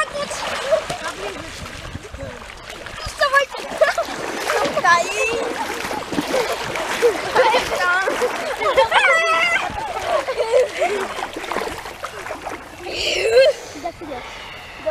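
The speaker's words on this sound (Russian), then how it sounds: "Забегай быстро в воду, Гуго." A child runs into open water, kicking up repeated splashes and sloshing at close range, while people talk and call out over the splashing.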